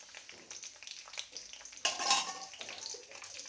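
Curry leaves, chana dal and mustard seeds fry in oil for a tempering, a continuous close sizzle that flares into a louder crackling burst partway through, with light utensil clinks.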